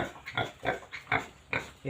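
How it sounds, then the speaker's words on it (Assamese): Pigs on a pig farm in Assam grunt and oink in five evenly spaced bursts, close and fairly loud, with no talk. "তেখেতৰ গাহৰি ইয়াতে"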